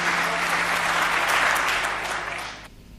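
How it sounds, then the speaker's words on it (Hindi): Audience at a comedy poetry show breaking into a dense burst of clapping that holds steady, then fades and cuts off near the end. "एक बार दोनों हाथ उठाएं, तालियों में तब्दील करें, मोहन मुंतजिर।"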